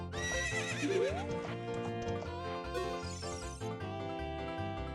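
A horse from Zelda: Ocarina of Time neighs in a loud whinny near the start, with rhythmic clip-clop hooves and game music continuing underneath.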